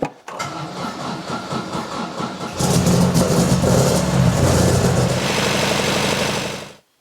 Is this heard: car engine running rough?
yes